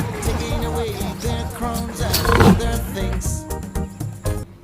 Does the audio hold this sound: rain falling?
no